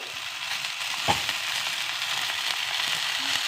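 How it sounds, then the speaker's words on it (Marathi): Fenugreek leaves and crushed garlic fry in a pan with a constant close sizzle, broken by one brief knock or drop near the start. "त्याच्यामध्ये लसूण चेचलेला घालूया आता मेथीची भाजी घालायची आहे"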